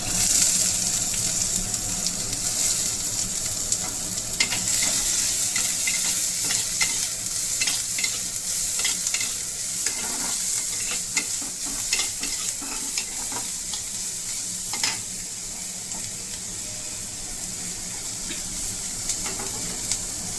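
Chopped ginger and onion sizzling in a pan, a steady hiss of frying broken by frequent stirring scrapes throughout.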